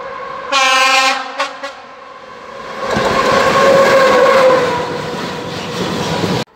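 A train at a station near Prague sounds a loud, shrill horn in several blasts, then a freight train rolls past close by with a heavy, continuous rumble and rattle before cutting off abruptly.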